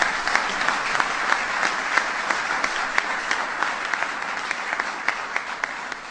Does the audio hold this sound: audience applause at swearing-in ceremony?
yes